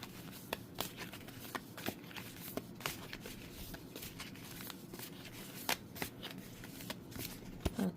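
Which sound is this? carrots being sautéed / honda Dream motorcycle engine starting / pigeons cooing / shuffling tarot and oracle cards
shuffling tarot and oracle cards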